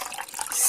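Water is poured into a container to mix with plaster, a brief splashy gurgle that builds into a hissing stream, close and moderately loud, with no talking.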